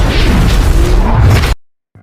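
A house explodes in an action movie, producing a loud, dense roaring blast with rumbling low end that lasts about a second and a half, then cuts off abruptly to near silence.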